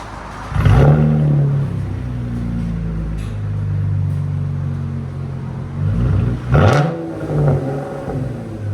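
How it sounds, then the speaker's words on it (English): A 2016 Chevy Camaro RS with a 3.6L V6, fitted with an X pipe and Dynomax Race Bullet exhaust, idles with a deep steady rumble, then blips its throttle into two loud, sharp revs near the start and end. "Those DYNOMAX and X pipes make it sound so much better."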